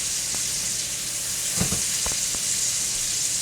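Small marinated steaks sizzle steadily in a hot pan, a constant bright hiss with a few sharper crackles and spits near the middle, close and moderately loud with no talking.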